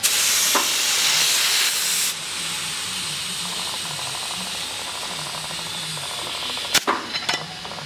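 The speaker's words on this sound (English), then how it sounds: "All that's left now is for us to pump the tyre up." Air hissing steadily as a motorcycle tyre fitted with a Motoz offset-valve Uber Tube inner tube is pumped up, a continuous broadband rush that drops slightly in level partway, with a couple of sharp clicks near the end.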